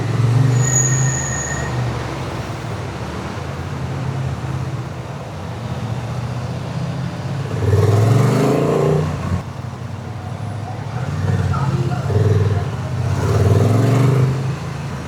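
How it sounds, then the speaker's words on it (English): Dense road traffic heard from a Honda Transalp 750 motorcycle during a holiday period: a continuous rumble of engines and tyres, with vehicles swelling louder as they pass close by and no one speaking. "The traffic is crazy even though it's holiday period."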